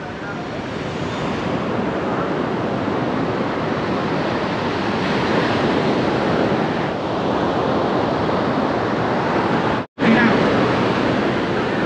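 Surf rushes and roars steadily onto a beach in Da Nang, Vietnam, loud and close, mixed with gusty wind buffeting the microphone and a brief dropout near the end.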